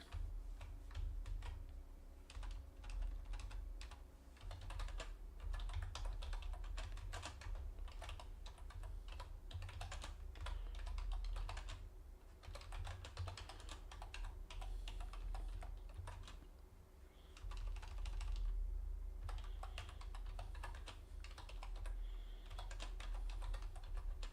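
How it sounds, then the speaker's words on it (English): Typing on a computer keyboard during a live stream, rapid bursts of close, crisp key clicks with short pauses between runs, quiet and without speech. "And I'm now typing."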